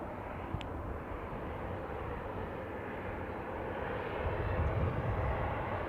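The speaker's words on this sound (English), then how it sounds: "on the runway then we have got a Jet 2, Boeing 737-800, registration GJZHH, going to Geneva" A Jet2 Boeing 737-800 airliner on the runway at Manchester Airport gives a steady, fairly distant jet engine roar that swells slightly toward the end, with no talking.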